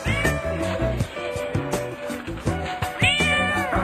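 A domestic cat meowing repeatedly in rhythmic, drawn-out calls close to the microphone, with a steady beat of background music underneath.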